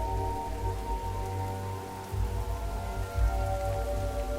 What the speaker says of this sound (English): Hear the gentle patter as it hits leaves and the ground.